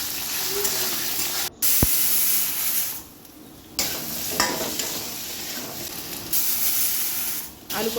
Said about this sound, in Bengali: আর এখানে দেখো আলু পটল কেটে নিয়েছি ছোট ছোট করে। তো এটা এখন ধুয়ে ভাজবো।